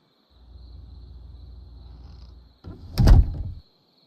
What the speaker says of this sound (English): Open a door.